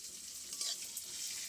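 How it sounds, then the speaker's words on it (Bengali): Spices and other ingredients, including green and ripe chillies, fry in a pan for a chhana egg curry. A soft, low sizzle mixes with light stirring scrapes. The sound is quiet and continuous, with no talk. "একটু ভালো করে ভেজে নেবো সব উপকরণগুলো"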